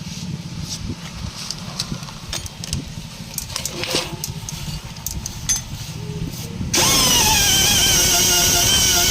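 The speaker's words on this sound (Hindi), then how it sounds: "इसी को आप ब्लेड से बराबर कटिंग करके फिर इसमें घिसाई करना है।" A power tool buffs the inside of a Scorpio SUV tyre during a puncture repair, a steady loud grinding whine that rises sharply near the end after a stretch of rougher, scraping tool noise.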